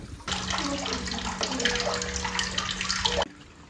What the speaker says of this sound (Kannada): ಹೇಮಾವತಿ ನೀರು